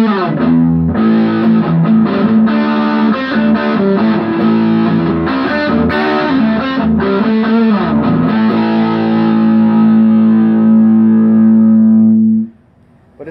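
A heavily distorted electric guitar through a Joyo U.S. Dream distortion pedal, distortion at full, rings out loud and sustained, chords strummed and held, then fades into a long droning note before cutting off.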